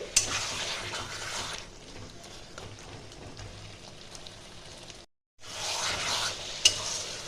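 Chicken masala frying in a pan while it is stirred with spices: a steady, close sizzle with scraping stir strokes, a brief drop to silence about two-thirds through, then the crackling frying returns.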